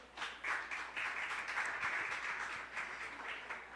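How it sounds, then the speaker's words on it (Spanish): Steady applause from a church congregation, many hands clapping continuously for several seconds. "Demos un aplauso a esta palabra."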